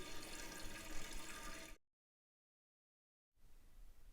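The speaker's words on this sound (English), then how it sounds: "then let it refill again to actually test how high the water level gets this time" Water rushes steadily into a toilet tank as it refills after a flush, a broad hissing flow that cuts off abruptly into silence, then resumes more faintly after a pause.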